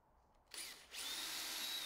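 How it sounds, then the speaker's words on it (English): A power drill spins up to bore pilot holes for brass screws during a planer restoration, a brief start followed by a steady, loud high-pitched whir, with no speech. "I mark out where the holes need to go, and drill some pilot holes"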